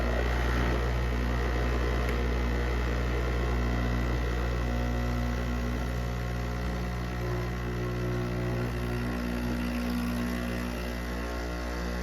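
A Gourmia GCM4230 8-in-1 coffee machine hums and drones steadily through its self-clean cycle, a loud, constant mechanical whir with a rattling, buzzy edge from its plastic parts, running unbroken without any talk.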